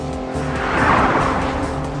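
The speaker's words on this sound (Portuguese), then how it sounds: "Carros esporte elétricos de alta performance" A high-performance electric sports car drives past at speed, a steady loud road roar with tire noise swelling toward the middle and holding, no voices.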